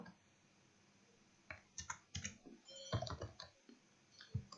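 Close, quiet typing on a computer keyboard while filling in a Google Forms quiz, with quick clusters of key taps and clicks in an uneven rhythm after a silent first second and a half.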